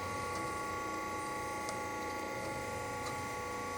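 Y axis of a Harig E-Z Surf CNC and manual surface grinder moving, with a smooth, steady mechanical whir and hum and a few faint ticks, constant and fairly quiet.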